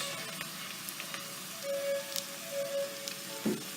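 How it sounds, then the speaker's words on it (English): Mushrooms sizzle in a hot pan as they start cooking for a risotto, a quiet steady crackle and hiss with a few faint clinks of utensils, close by and without talk. "Now we're gonna put our mushrooms and we're gonna start cooking mushrooms."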